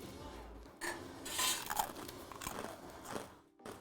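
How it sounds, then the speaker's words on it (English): Crunchy crouton bitten and chewed close up, a few quiet crisp crunches and clicks spread across a few seconds with no talking. "I'm also gonna test a crouton."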